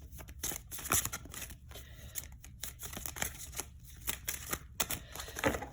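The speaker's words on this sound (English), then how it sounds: "And I'm going to finish shuffling these cards." Tarot cards are shuffled close up in quick riffling bursts, with brief pauses between rounds of crisp flicking.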